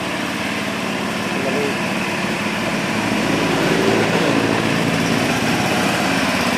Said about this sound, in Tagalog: Ito yung welding machine natin.